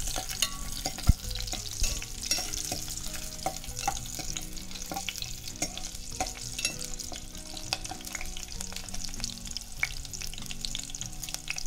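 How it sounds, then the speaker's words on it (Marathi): Spice tempering with curry leaves crackles and sizzles in hot oil, scattered sharp pops over a soft frying hiss with stirring, close and fairly quiet, no voices. "हा फोडणी बघा कशी मस्त एकदम तडतड वाजली आहे"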